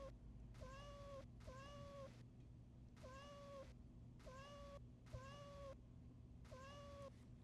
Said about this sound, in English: now we have 3 different meows